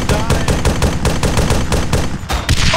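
Loud, rapid automatic gunfire in the video game Arma 3, a continuous rhythmic rattle of close shots with a few sharper bursts near the end, with voices shouting underneath.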